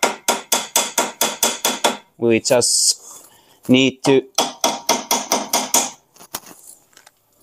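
A hammer strikes a brake disc on an 1980s KaliKart racing kart, pushing it toward the centre. Evenly spaced metallic blows ring out close up, pausing while someone speaks briefly, then resuming in a steady series.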